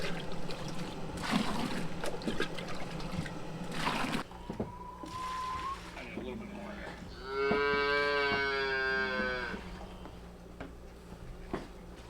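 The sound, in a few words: calves mooing in greenhouse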